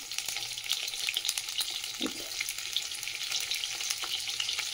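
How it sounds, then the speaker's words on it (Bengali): Brinjal pieces seasoned with turmeric and salt fry in hot oil, giving a steady close sizzle and crackle that runs throughout, with faint stirring scrapes and no talking. "বেগুনে দিয়ে অল্প একটুখানি হলুদ দিয়ে দিচ্ছি, অল্প একটু নুন দিয়ে দেবো, দিয়ে হালকা করে একটু ভেজে নিই"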